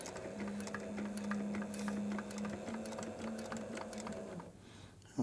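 Industrial sewing machine stitching leather, a steady close mechanical hum with rapid ticking needle strokes running for several seconds before stopping.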